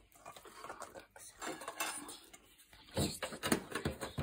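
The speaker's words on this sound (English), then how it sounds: "Okay, mix it, okay. More, harder, come on, use your strength." Pancake batter being mixed in a bowl: a utensil scrapes and clinks against the bowl in quick, uneven strokes, growing louder and more vigorous toward the end.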